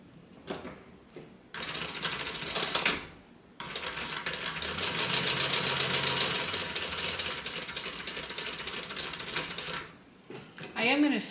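A sewing machine runs steadily while top stitching down each side of a fabric bag, a continuous mechanical whir of about six seconds after short starts and stops, with brief bursts of stitching before it.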